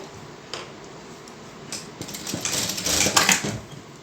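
A sewing machine stitches fabric with a mechanical whir and clatter that builds from quiet ticks to a busier run near the end; no voice is heard.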